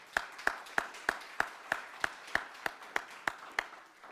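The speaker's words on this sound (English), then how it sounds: "Round of applause." An audience at a conference day claps in a steady, evenly spaced rhythm, thirteen or so sharp claps, faint and distant, with no talking.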